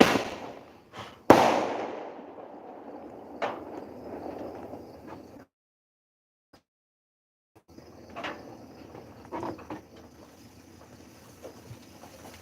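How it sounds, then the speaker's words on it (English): Fireworks go off at a lake at the end of summer, scattered sharp bangs and crackling bursts over wind and outdoor rumble, with a silent gap midway before more distant pops resume. "we kind of started the fireworks"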